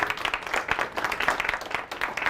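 A class of middle school students clap together in a science lesson, quick dense clapping with a slightly uneven rhythm, close and lively throughout.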